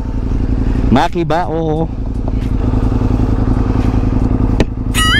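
A Ducati motorcycle in sports mode rumbles steadily up close, its loud low engine note running throughout while someone talks briefly over it.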